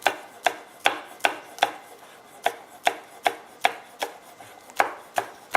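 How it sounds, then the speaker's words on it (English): A knife chops green onions on a cutting board in a steady series of about fourteen crisp, evenly spaced knocks. The chopping is close and distinct against a quiet background, with no talking. "So I'm just gonna cut this up like this."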